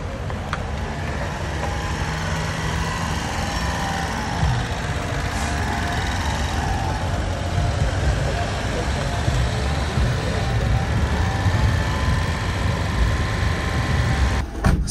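A Honda Beat kei car's small engine hums steadily while driving, a continuous low drone with road noise and some speech over it.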